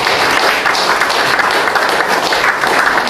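A church congregation applauds the Lord during worship, a dense wash of many hands clapping at once, loud and steady throughout with faint voices mixed into the crowd noise.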